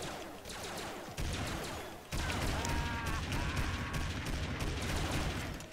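Rapid gunfire bursts from a Family Guy: Back to the Multiverse match on Xbox 360, continuous clattering shots growing louder and denser after a brief drop, with busy game effects layered underneath.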